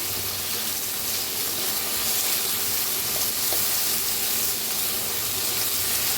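Brinjal pieces roast in a hot pan with a dense, even sizzle and crackle that stays steady and fairly loud throughout, with no voices over it.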